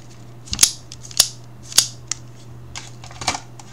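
The spring-loaded metal shutter lock of a floppy disk snaps back several times, giving crisp, close, irregular clicks separated by short pauses over a faint background hum.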